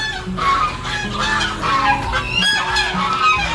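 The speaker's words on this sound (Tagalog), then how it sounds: "nandun yung maingay nating gansa." Loud, busy farmyard honking from geese, overlapping calls with clucking fowl mixed in, continuous and close.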